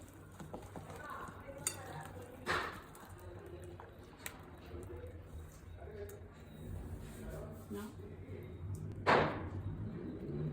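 Chicken pieces are stirred with spices and ginger garlic paste in a bowl, giving soft wet squelches and scrapes with a few sharp clinks of utensil against the dish; a voice speaks faintly at times.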